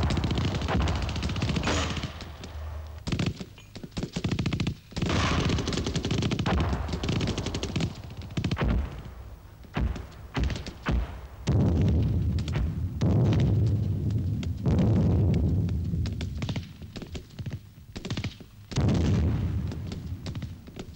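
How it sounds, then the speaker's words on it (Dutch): Heavy military gunfire and artillery pound enemy positions in a Dutch Marine Corps combat sequence, with loud continuous bursts of machine-gun fire and booming blasts rolling on for the whole stretch, dense and close. "De tweede fase richt zich op de vijandelijke stellingen die nu hevig onder vuur worden genomen."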